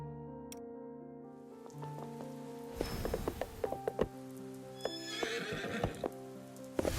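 A horse in a video game neighs and then gallops, a whinny over musical tones followed by a fast run of clip-clopping hooves with sharp clatters, loud and close, no one speaking.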